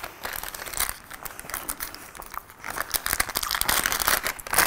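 A plastic US Army ration heater bag crinkles and rustles up close in irregular bursts, being handled and squeezed continuously.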